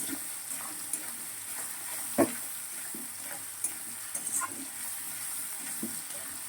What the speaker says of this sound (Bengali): দেখো আলু ভাজা হয়ে যাচ্ছে, মশলাও ভাজা হয়ে যাচ্ছে।